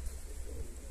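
A soft, brief pigeon coo, low and muffled, heard close by against faint background noise.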